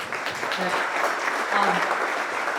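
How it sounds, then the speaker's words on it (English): An audience claps steadily at a luncheon in the Angus Barn Pavilion, a dense sustained patter with some voices mixed in underneath. "Big round of applause for"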